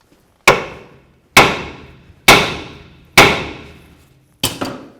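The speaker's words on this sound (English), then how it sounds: "give the control arm a couple light bonks with my hammer" A hammer gives light taps to a Cadillac Escalade front lower control arm during ball joint replacement: five loud, ringing metallic strikes spaced about a second apart, the last a quick double hit.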